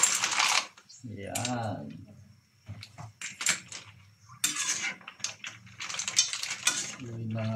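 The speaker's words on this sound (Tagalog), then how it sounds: "Pwede na po natin ilagay ang ating tahong." Mussels tipped into a pot of boiling rice-water broth for sinabawang tahong, with clattering shell and metal knocks, a sloshing splash, then scattered clinks, close up, and a voice speaking briefly.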